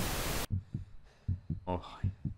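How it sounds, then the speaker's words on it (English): Slow, muffled thumping heartbeat in the horror game Paralyzis, a paralysis scenario, with low pulses repeating in pairs after a loud burst of static at the start, and a brief tonal sound midway. "heartbeat in the back of my skull"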